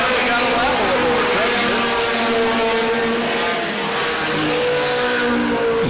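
Race cars battling for position around a track, engines droning steadily with shifting pitch as they run close together, loud and continuous while a commentator talks over the action.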